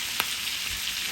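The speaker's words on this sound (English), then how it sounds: "we're going to baste it with that infused olive oil and butter" Filet mignon sizzles steadily in a pan while basted with infused olive oil and butter, a soft continuous hiss with one brief spoon or pan clink, quiet and close with no talking.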